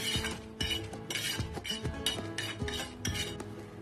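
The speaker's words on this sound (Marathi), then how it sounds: "त्यांनाही जास्त भाजायच्या नाही आपल्याला फक्त थोडंसं हलकंसं रोस्ट करायचे" Roasted chickpea dal lightly tossed in a pan, with a steady run of metal spatula scrapes and clinks against the pan, rhythmic and close, without any voices.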